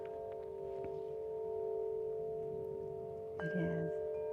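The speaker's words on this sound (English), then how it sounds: "We got these wind chimes." Wind chimes ring outdoors in a green, leafy setting, giving steady sustained tonal notes throughout with a brighter cluster of strikes near the end over a soft ambient background.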